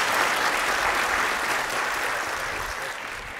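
A conference audience applauds after a talk, dense sustained clapping filling the room and gradually tapering off toward the end.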